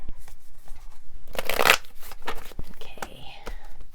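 Tarot cards are shuffled by hand close up in short, riffling bursts, one louder flurry standing out, while a voice speaks softly between and over the shuffles.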